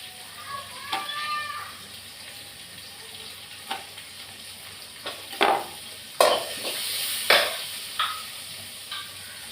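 Onions and green chillies with curry leaves sautéing in a pan for tomato chutney: a soft steady sizzle under scattered clinks and stirring scrapes of a spoon, with a few sharper knocks.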